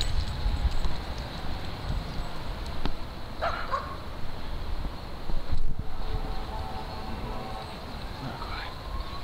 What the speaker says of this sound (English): Windy. Cold.